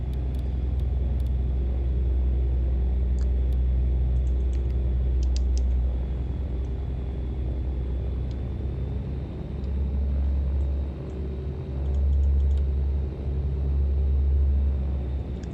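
Twin engines of a Beechcraft Baron 58 in a flight simulator hum as the throttle advances, a steady low droning rumble that swells in places, with faint clicks and taps over it and no talk.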